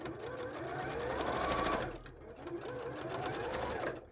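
Sewing machine running a straight stitch on bra fabric, a steady close mechanical whir with rapid needle clatter, pausing briefly midway then resuming.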